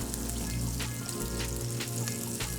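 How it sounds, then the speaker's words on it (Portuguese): Chopped guanciale frying in a pan, a dense, continuous sizzle and crackle with faint periodic stirring swishes, close and steady throughout, with no one speaking. "Aqui nós temos o guanciale que eu previamente deixei picado. A gente vai deixar ele dar uma leve dourada"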